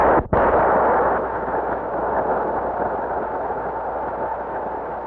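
A 1955 atomic bomb test explosion, a sudden sharp blast followed by a long, loud, sustained rumbling roar that slowly eases but keeps going to the end, with no speech.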